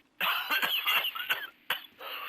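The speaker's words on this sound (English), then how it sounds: "Not with you coughing like that." A character in The Division 2 coughs in a short, harsh fit, several rough bursts in quick succession followed by one more cough after a brief pause, close and clear.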